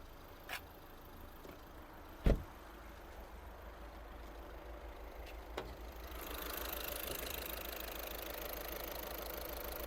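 A Volkswagen Caddy diesel van engine idles steadily and quietly, with a few sharp knocks and clicks early on and a rise in background rumble midway.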